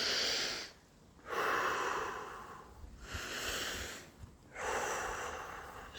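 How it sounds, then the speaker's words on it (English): A person takes slow, deep breaths outdoors among trees and grass, air drawn in and pushed out in long, close, soft rushes with pauses in between. "Deep breath."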